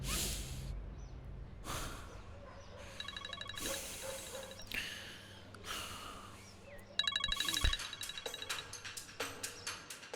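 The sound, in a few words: phone ringing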